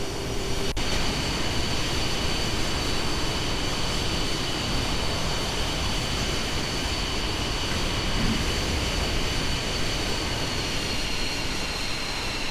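An F-22 Raptor jet taxis at McChord Field, giving a continuous loud engine roar and broadband rumble with a steady whine, unbroken for the whole stretch.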